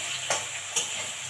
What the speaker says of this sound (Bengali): যেহেতু রসুনটা দিয়ে দিয়েছি, রসুনটাও লেগে যেতে পারে, তাই একটু ঘন ঘন নাড়তে থাকবো।